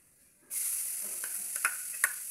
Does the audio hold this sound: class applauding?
no